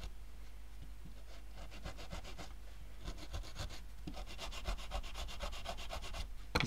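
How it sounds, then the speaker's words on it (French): A stone rubs back and forth over model railway track at a turnout for finishing, giving rapid, steady abrasive strokes close up, with a faint low hum underneath and no talk. "je passe avec une pierre en fait pour venir faire la finition"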